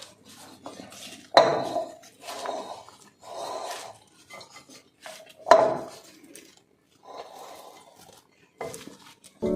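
A spoon clatters and scrapes around a bowl in repeated strokes as a pomegranate and sweet corn salad, with a tempering poured over it, is tossed, with sharper clinks now and then.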